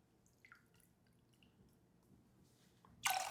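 Still water poured into a cocktail shaker while making orgeat lemonade: a few faint drips in a quiet room, then a sudden loud splashing pour at the very end.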